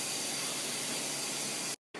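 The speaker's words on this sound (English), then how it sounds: "you can press the release button just to make that pressure release faster" Steam hisses loudly and continuously from a pressure cooker's release valve after cooking a spinach and bacon Alfredo, a harsh, even rush that cuts off abruptly, then briefly resumes.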